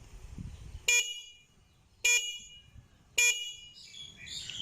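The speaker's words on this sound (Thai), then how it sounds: "แตรครับ" Three short, loud motorcycle horn beeps at even intervals, with faint bird chirps after the last one.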